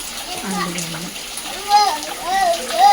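Heavy rain splashes and pours into a corner blocked with pooled water, making a steady close wash with louder splashing surges, while voices talk over it.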